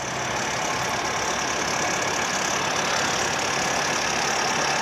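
A 2023 Bobcat T66 R series skid steer with a 72-inch bucket runs at a steady idle, a close, even engine drone with a constant hiss and no change in rhythm, no voices.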